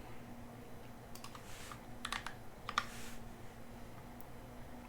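Typing on an NK65 Entry Edition mechanical keyboard fitted with PBT vaporwave keycaps: quiet, close keystrokes in short irregular bursts over a steady low hum, with no talking.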